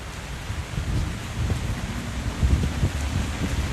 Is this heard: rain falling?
yes